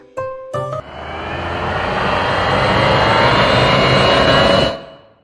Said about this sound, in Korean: 혹시 이거 엔진 소리야?